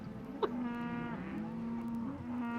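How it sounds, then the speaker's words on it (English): Cows moo in a steady run of long, low, droning calls that overlap one another at moderate loudness, with a brief sharp noise early on and no speech. "a lot of cows. Where the hell's the cows coming from?"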